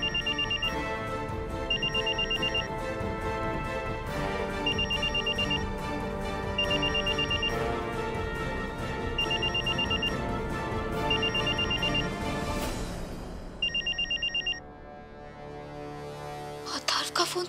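Telephone ringback tone repeating in a steady pattern of paired rings while a call waits to be answered, heard over dramatic television background music, fairly loud, cut off near the end.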